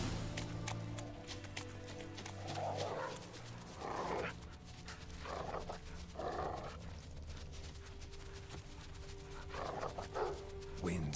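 Dog barking in the video game The Witcher 3 on Death March difficulty, several bursts of barks spread over the stretch against steady game ambience and music.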